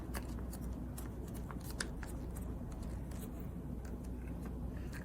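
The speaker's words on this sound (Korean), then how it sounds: "오른쪽은 세모를 안쪽으로 접어서 이렇게 접어주시고요." Paper is folded by hand for a fence-style paper box craft, making soft, close crinkling and rustling with faint scraping, quiet and continuous, without talk.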